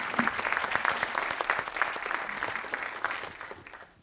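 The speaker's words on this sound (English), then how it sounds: "So please stand up and we can give an applause." A conference audience at the WASP Faculty and Industry Days 2019 applauds the organizers with dense, steady clapping from many hands that runs the whole time without a break.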